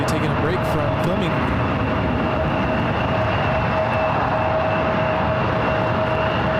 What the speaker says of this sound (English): United 777 taxiing over to the 28s for takeoff.